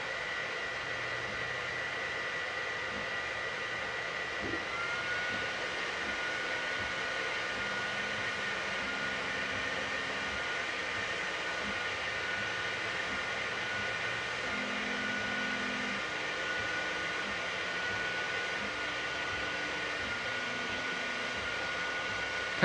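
A Sovol SV08 3D printer running a test print: a steady whirring fan hiss with faint low stepper-motor tones shifting and hopping underneath, continuous and close.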